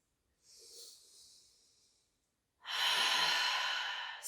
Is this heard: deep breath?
yes